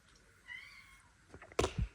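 A house cat gives a single drawn-out meow for attention and food, fairly close. A few soft clicks and thumps follow right after it against a quiet room.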